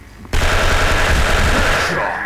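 Automatic gunfire in the online shooter game Special Force erupts suddenly into one loud, dense burst of rapid shots lasting about two seconds before tailing off.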